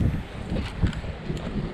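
Strong wind buffets the microphone in low, uneven gusts beside a lake during a fishing outing, rough and continuous for the whole moment.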